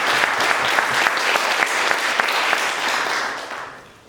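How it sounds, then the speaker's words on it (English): Wedding guests give a round of applause for the groom, a loud crowd of clapping hands with a few sharp standout claps, holding steady before tapering off and fading out at the end. "So can we have a round of applause for Matt for that?"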